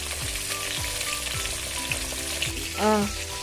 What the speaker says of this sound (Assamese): মোৰ মাছ ভাজা হোৱাই নাই। এইখিনি মাছ আৰু অলপমান আছে, এইখিনি ভজা হ'লে হ'ল।